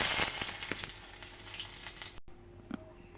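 Cumin seeds and bay leaf crackle in hot oil for a Bengali egg and potato curry, a bright sizzle that fades after a brief cut, with a few faint clinks near the end.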